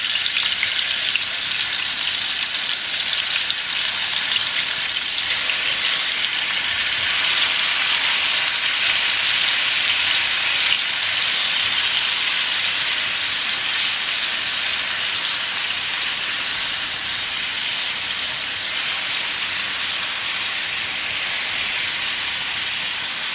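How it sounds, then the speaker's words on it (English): Aubergine slices fry in hot oil in a pan, a strong continuous sizzle and crackle that holds steady and close for the whole stretch, with no voices. "Now I place all my aubergine in this pan."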